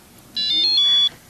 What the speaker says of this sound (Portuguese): O bip do meu telefone.